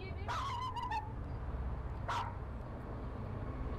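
A dog barks in a quick cluster of sharp barks, then pauses and gives one more, all over a steady low background rumble.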